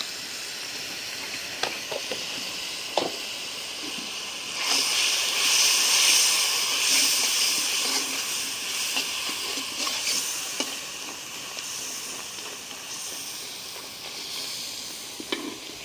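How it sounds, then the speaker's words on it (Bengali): Spice paste of turmeric, chili, coriander and cumin powders fries in a pan with a steady, loud sizzle that swells into a stronger hiss midway, broken by occasional light scrapes and stirs. "মশলাটা কষাই নিলাম।"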